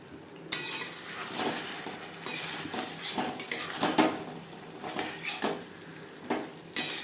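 Spices being stirred and fried over a low flame in a pan for a Bengali fish curry, with repeated scraping and clinking of a metal spatula against the pan, a soft sizzle running underneath, and no talking.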